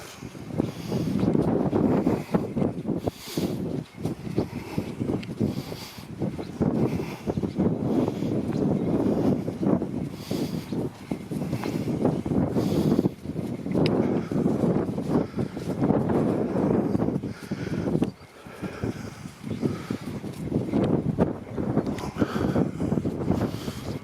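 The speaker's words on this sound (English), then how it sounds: "When that wind comes up at you, you know it's still cold." Cold wind gusts across an open coastal path, roaring as a loud, continuous rumble of microphone buffeting that rises and falls for the whole stretch, with no speech.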